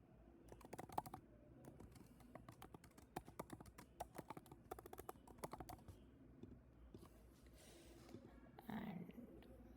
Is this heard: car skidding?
no